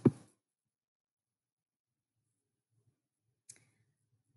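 A single sharp mouse click on a Save button in NetSuite software, close and crisp in a quiet room, followed by a second faint click about three seconds later.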